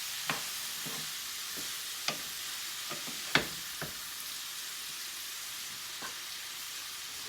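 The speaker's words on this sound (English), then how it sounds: "make sure you try to stir it to get the oil on all of the noodles" Zucchini noodles frying in oil in a pan, a faint steady sizzle broken by scattered light clicks and scrapes of stirring.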